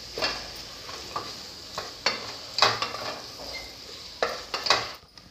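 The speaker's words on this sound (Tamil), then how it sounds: "ஒரு கைப்பிடி புதினா ஒரு கைப்பிடி மல்லித்தழை சிம்மிலேயே வச்சு வதக்குங்க" Mint and coriander leaves sautéing over a low flame for egg biryani: a soft sizzle under repeated close scrapes and taps of a ladle against the pot, arriving in uneven bursts.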